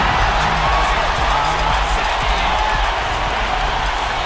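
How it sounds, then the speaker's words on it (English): Steady, loud crowd roar from a virtual fourth-quarter NBA 2K10 basketball arena, a continuous wash of cheering and noise with faint clapping and low thumps underneath, no talk. "The fourth quarter crowd. Get up and make some noise."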